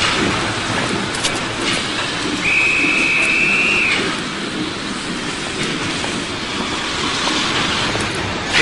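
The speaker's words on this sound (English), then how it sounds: "The train now standing on platform 6 is the 1147 from Cheltenham." A train idles at platform 6 of a station with steady rumbling and hiss throughout, and a brief high whistle-like tone rises partway through.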